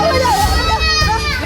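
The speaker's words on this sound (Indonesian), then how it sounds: "terdengar tangisan anak kecil" A small child cries loudly and continuously during a live broadcast of an assault in Kota Baru, Jambi, with crying and sobbing voices close up through the whole moment.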